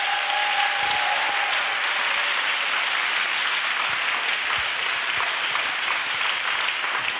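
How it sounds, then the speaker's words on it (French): A church congregation claps and cheers for Jesus in steady, sustained applause filling the room, loud and continuous, with faint voices mixed in. "Let's clap for Jesus."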